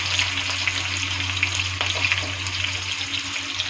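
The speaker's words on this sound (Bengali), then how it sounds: "একটু রসুন কুচানো ছেড়ে দিলাম, আর একটু পেঁয়াজ কুচানো ছেড়ে দিলাম" Chopped garlic and onion, with green chillies, added to hot oil in a pan: a loud, even, continuous sizzle up close, with faint stirring scrapes and no speech.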